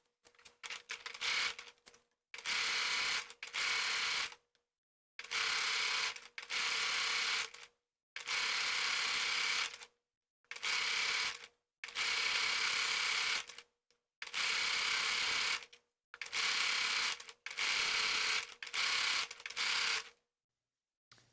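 A sewing machine runs in repeated short bursts while stitching a sleeve underarm seam, about a dozen buzzing runs separated by brief silent stops, close and steady.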